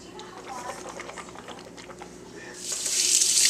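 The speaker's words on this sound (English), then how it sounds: "rinse it off with the denture too, and dry it off." A denture is rinsed under a running tap: faint clatter and handling sounds first, then a rising steady rush of water that grows loud over the final second.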